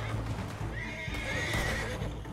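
A horse in the video game Red Dead Redemption 2 runs with steady clip-clop hoofbeats and a whinny, close and clear over game ambience, with no talk.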